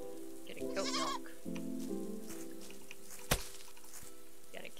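Goat bleats in the video game Garden Paws as it is milked, a short wavering bleat followed by a lower stretch of sound, with a brief knock later over steady game background tones.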